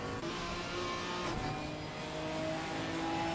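Porsche GT4 race car in Assetto Corsa Competizione, engine revving hard with a dense, buzzing mid-range note that holds steady and surges again, loud and close, no voices over it.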